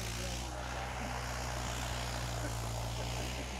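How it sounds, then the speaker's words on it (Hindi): A Mahindra 585 tractor pulls a tiller, its engine giving a loud, steady, low droning roar that runs unbroken throughout with no talk over it. "महिंद्रा पहले के हाई में चल रहा, 11 रुपये का टिलर ले गए।"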